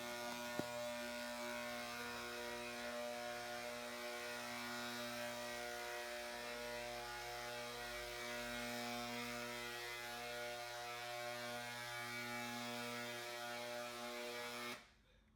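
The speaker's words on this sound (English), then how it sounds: "I'll also put it through the handheld electric sprayer as well." A handheld electric sprayer drones continuously while spraying waterless wash, a steady motor hum held close for about fifteen seconds before cutting off abruptly at the end.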